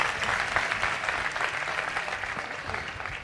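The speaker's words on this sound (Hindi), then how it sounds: "आओ ऐसे बादशाह के लिए जोरदार तालियां बजाओ" A church congregation claps loudly in response to a preacher's call, steady dense applause filling the room and tapering slightly toward the end.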